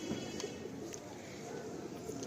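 Madrasi pigeons coo softly and continuously over a steady background hum, with low murmuring calls and a few faint chirps from a pigeon loft; no voice is heard.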